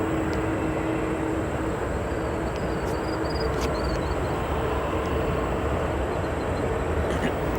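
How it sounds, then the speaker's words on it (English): Aer Lingus Airbus A330 approaching O'Hare Airport, heard as a steady, broad, continuous jet rumble that holds at an even level throughout, with no voices over it. "So we have our Aer Lingus A330 getting closer and closer."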